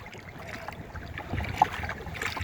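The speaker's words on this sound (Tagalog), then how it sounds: "Maririnig siguro ninyo yung hangin." Wind buffets a small wooden boat with a leaking hull out on the water, a low gusty rumble on the microphone with faint water and hull sounds, rising in strength toward the end.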